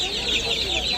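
Australian chicken chicks at a Kolkata pet market give a dense, continuous chorus of high peeping and clucking, close and steady over a brief moment.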